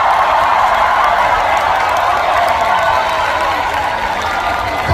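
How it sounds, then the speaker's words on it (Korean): Sustained, loud applause fills the hall from a large audience at a charity sharing concert, steady dense clapping throughout with no talk over it. "큰 박수 한번 주시겠어요"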